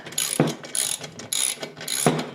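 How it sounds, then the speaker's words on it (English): A socket wrench with a 9/16 inch socket and an extension tightens a bolt on a tow-behind aerator being assembled. Four short ratcheting bursts sound close up in a steady back-and-forth rhythm, with no voices. "to tighten the bolt I have a 9/16 inch socket and an extension"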